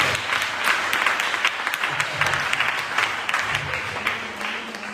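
A church congregation applauds loudly and steadily, a dense wash of many hands clapping with no break and a faint voice underneath.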